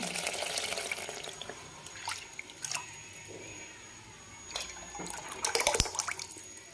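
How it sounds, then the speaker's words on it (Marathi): Lentil cooking water pours and drips into a pan in uneven bursts, with splashes growing busier toward the end over a faint background hiss. "जे आपण डाळीचं पाणी काढून घेतलं होतं, येळवणी म्हणतात ते आपण टाकून घेऊ"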